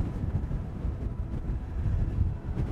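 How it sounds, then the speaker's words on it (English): Strong wind buffets the microphone outdoors on a landscape shoot, a rough low rumbling roar that surges and eases without pause, close and loud, with no talk. "Much windier over here."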